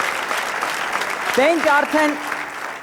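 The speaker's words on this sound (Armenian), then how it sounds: "Շատ լավ, եկեք բարձր ծափարենք, այս նախավարժանքը ստացվեց" Audience applause at a sport-themed TV studio show, a steady broadband patter of many hands that carries on while someone speaks over it.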